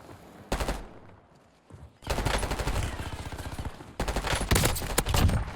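Bursts of rapid SMG gunfire in the video game Warzone, one brief volley then two long sustained stretches of fast shots, loud and close, separated by a short lull.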